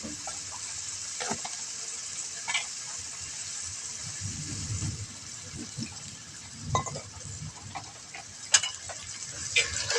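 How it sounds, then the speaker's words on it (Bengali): Spices with a little chili powder frying and being stirred in a pan, a soft steady sizzle with occasional spoon clinks and scraping against the pan. "এবার মশলাটা ভালোভাবে কষিয়ে নেব"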